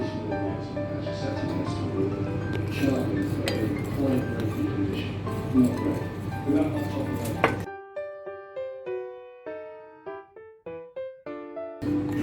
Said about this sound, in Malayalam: പിന്നെ കുറച്ച് മിൽക്ക് കൂടി ചേർത്തിട്ട് ഇതൊന്ന് മിക്സ് ചെയ്യാം.